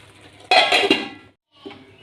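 A metal lid set onto a pan of semiya rava upma, one bright clattering clank with a short ringing rattle, close and loud, followed by a fainter second clink.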